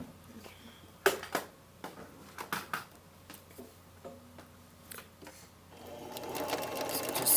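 Sewing machine stitching the facing onto an existing welt pocket of a jacket, heard close as short bursts with pauses, building to a longer steady run at the end.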